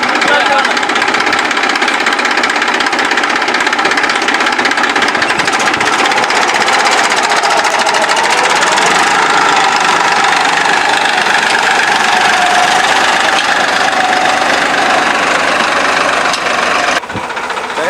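A farm tractor engine runs continuously through the clip, a steady loud rumbling drone with a rattling, knocking texture that holds close and unchanged for the whole stretch.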